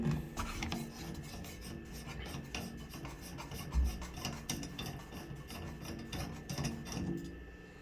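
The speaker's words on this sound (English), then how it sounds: "Then you want to unscrew this wing nut." A wing nut on a Delta shower faucet is unscrewed during a cartridge replacement, giving close, continuous metallic rasping and grinding with small ratchety clicks, steady throughout with no talking.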